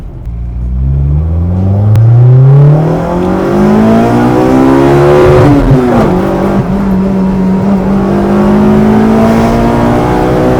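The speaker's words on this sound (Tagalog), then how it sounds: "Pero tahimik yung sasakyan mo." A Toyota AE92 car with a swapped 4A-GE engine revs up and down repeatedly over about ten seconds, loud and close, its pitch sweeping up through several climbs.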